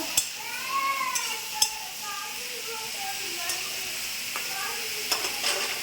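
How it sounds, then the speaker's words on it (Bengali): Potatoes frying with turmeric, spices and a little sugar in a pan, giving a quiet, continuous sizzle with a few sharp clinks and scrapes of stirring. "মশলা ভালো করে একটু চিনি আর আলু একসঙ্গে ভেজে নেবো"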